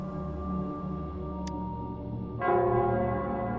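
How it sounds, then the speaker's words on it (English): A large bell in a square in Wuthering Waves rings out as a deep, sustained tolling tone, then a second strike swells louder and richer near the end, with no voices. "it's the Nell Squares bell."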